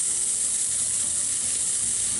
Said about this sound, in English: I'm holding it on the edge with my tongs and searing that fat all the way around